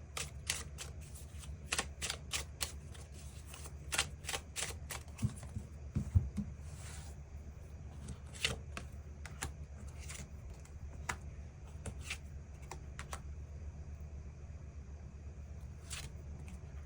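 Tarot cards shuffled and drawn in a quiet room, a long run of crisp riffling snaps and soft flicks over a low steady hum, with no talking.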